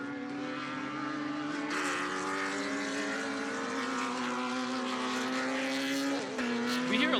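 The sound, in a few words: off-road race cars on the track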